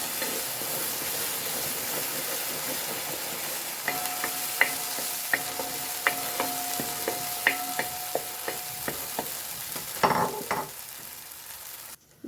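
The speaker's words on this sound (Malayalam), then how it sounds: "ഈ ചക്ക നല്ലോണം ഒന്ന് ഇളക്കി കൊടുക്കട്ടെ നമുക്ക്." Jackfruit pieces are stirred in hot ghee, sizzling steadily while a spoon scrapes and taps the pan in a series of clinks from about a third of the way in.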